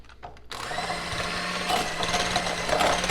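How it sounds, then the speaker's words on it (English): Electric hand mixer creaming cream cheese for a cream cheese frosting, a steady close whir that starts abruptly after a brief quiet moment and keeps running alone. "I'm using my hand mixer because it's more effective in creaming this."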